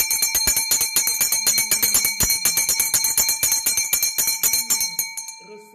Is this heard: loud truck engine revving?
no